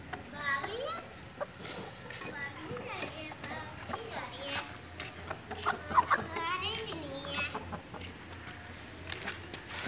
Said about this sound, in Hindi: देखिए ये चीनी मुर्गी।